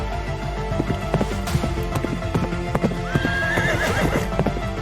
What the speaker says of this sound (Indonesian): Pasukan berkuda datang ke sini dengan cepat.